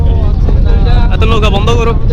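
A motorboat engine runs on the Meghna river near Ramgati, Alexander, giving a steady, close, low rumble with wind noise throughout, while people talk loudly over it.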